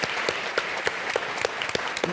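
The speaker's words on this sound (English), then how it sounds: "Huge round of applause to all of those people." Audience applause at a Huntington's disease research forum, honoring EnrollHD participants: scattered clapping at moderate volume with distinct sharp individual claps standing out in a loose rhythm.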